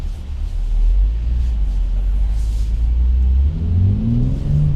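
A 2019 BMW X3 M40i SUV accelerates with a deep, steady engine rumble that rises in pitch near the end as revs climb, heard from inside the cabin.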